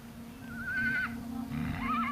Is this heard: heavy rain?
no